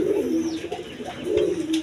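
A pair of Gorra pigeons, one mili-coloured female and one red male, cooing close by in two low, throaty phrases.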